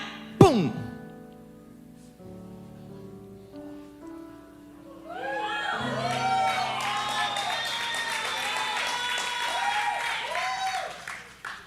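A church congregation applauds steadily for several seconds during a sermon, a broad wash of clapping from the room that rises after a brief vocal sound and tonal music at the start.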